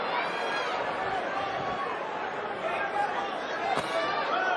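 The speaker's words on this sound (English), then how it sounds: "Crowd starting to finally settle down a little bit." Crowd at a boxing arena for Ryan Garcia versus Mario Barrios, a dense continuous roar of chatter and cheering that stays steady and loud throughout, with commentary-like voices mixed in.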